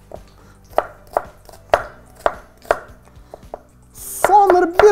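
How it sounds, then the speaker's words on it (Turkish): Onions are chopped with a knife on a cutting board, about nine crisp, evenly spaced thuds close by, followed by a brief clatter of pans or dishes at the end. "Hafif böyle kızarken ben de soğanları doğrayayım."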